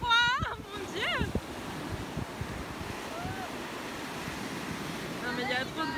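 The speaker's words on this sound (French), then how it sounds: "Non mais il y a trop de grosses vagues, hein." Big ocean waves breaking on the beach at Moliets, a continuous loud wash of surf with wind buffeting the microphone, and a few brief voices at the start and end.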